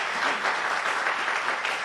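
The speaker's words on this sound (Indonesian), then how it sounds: "Beri tepuk tangan dulu untuk Tuhan kita" A congregation bursts into applause at a GBI church worship service in Batam, with dense, steady clapping that fills the hall throughout without a break.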